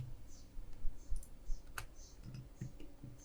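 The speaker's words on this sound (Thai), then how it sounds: "อ่าผมคลิกไปอีกทีนึง" Soft, close clicks from a computer mouse at a desk while working in 3D software, a few sparse sharp taps over faint room noise.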